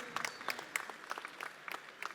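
An audience at a stage event claps in a thin, scattered burst of applause, a small crowd heard at moderate distance.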